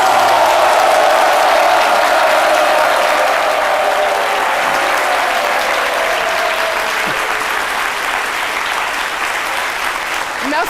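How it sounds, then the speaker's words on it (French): Loud, sustained applause from a large standing audience, steady clapping throughout with a slight easing toward the end. "je vais demander au public de se lever encore une fois pour applaudir très fort vos prouesses"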